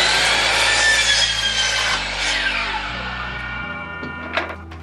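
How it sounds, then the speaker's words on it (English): A miter saw cuts through a 2x4 piece of scrap wood, a loud, steady whining buzz that slowly winds down near the end, with a small knock just after. "So I'm going to cut about a half inch off of there, so get it to fit in between here."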